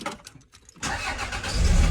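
A Toyota MR2 with a 3SGE 2-litre engine that runs rough cranks briefly, then catches and settles into a steady, close idle with a low rumble that grows louder toward the end.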